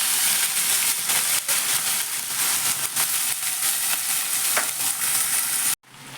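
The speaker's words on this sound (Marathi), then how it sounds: "हिंग टाकला आहे आधी या भाज्या मी परतून घेते" Mixed vegetables sauté in a pan with asafoetida for a Ganesh festival offering, a loud continuous close sizzle with faint stirring scrapes, ending abruptly.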